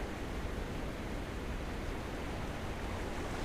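A steady, even roar of rushing water from a waterfall in the VRChat fishing game FISH!, a continuous broadband wash that stays loud and unchanging throughout, with no talk over it.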